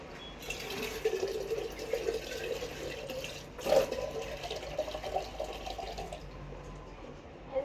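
Water running from a kitchen tap, a continuous splashing gush with a brief louder surge partway through, close and alone without talk.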